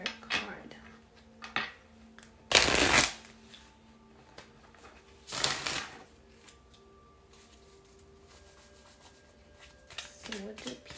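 Tarot cards are shuffled in two short, crisp riffling bursts, close to the mic, with quieter handling and shifting of the cards between them.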